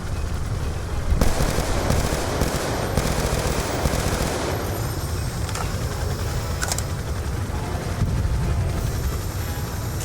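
Sustained automatic gunfire in Call of Duty Black Ops 2 aimed at enemy ASD drones, a dense roar of shots and combat noise running the full length, with sharp bursts standing out now and then.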